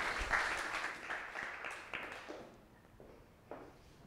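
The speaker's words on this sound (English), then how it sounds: "round of applause for Claire" Applause from a meetup audience at a data trust event, moderate and fading over a few seconds with scattered claps near the end.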